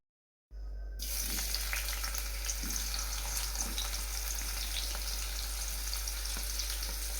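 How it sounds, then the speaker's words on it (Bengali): Chopped onion and tomato fry in hot oil in a pan for a cabbage and egg dish, a steady close sizzle that starts abruptly after a short silence and continues evenly with faint scattered pops. "টমেটো আর পেঁয়াজ কুচি সেটা আমি এখানে অ্যাড করে দিলাম একটু ভালো করে ভেজে নিতে হবে"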